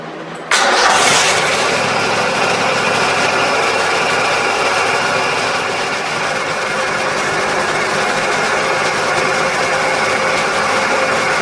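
A Kohler engine fires up abruptly after a starter bypass and settles into a loud, steady, buzzing run that continues unbroken to the end.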